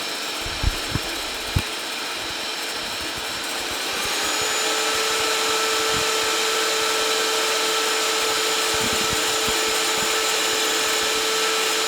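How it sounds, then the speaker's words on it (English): An electric mixer whips eggs for pumpkin pie with a loud, steady whirring drone. A few knocks come first, and then the motor rises to a higher constant pitch that holds to the end. "It's really beating air into those eggs."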